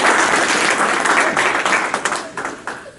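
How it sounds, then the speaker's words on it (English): Audience applause after a presenter calls for a quick round for a participant, dense steady clapping from a crowd that thins and tapers toward the end. "Let's give him a quick round of applause."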